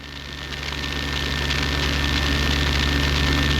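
A helicopter engine and rotor run steadily during a power recovery autorotation, a continuous droning hum with strong low tones that swells slightly and then holds loud and close, with no voices over it.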